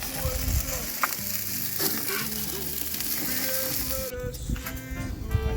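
Burger buns toasting on a flame grill, a steady close sizzle and crackle that holds throughout, with faint kitchen clatter and a brief tonal hum partway through.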